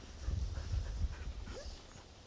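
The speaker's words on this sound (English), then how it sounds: "You hear my dog" A nervous dog whimpers and pants softly in the background beside a lake during a fishing outing, a brief low-level stretch of breathy whines with no talk over it.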